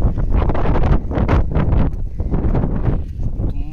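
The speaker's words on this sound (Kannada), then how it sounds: "ತುಂಬಾ ಗಾಳಿ, ನನ್ನ ಛತ್ರಿ ಹಾರಾಗ್ತದೆ" Strong wind buffets the microphone on a rainy trek up Pandavara hill near Sakleshpura, a loud, steady roar with gusty swells and rustling throughout, no speech.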